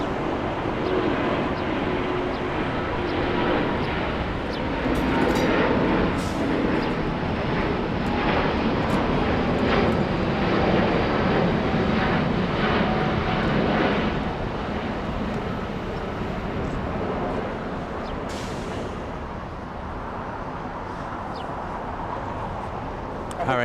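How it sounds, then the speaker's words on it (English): An Airbus A350 roars down the runway and lifts off at LAX, a broad, steady jet rumble heard from a distance that holds level and then slowly softens as the aircraft climbs away. "There goes the A350 lifting off."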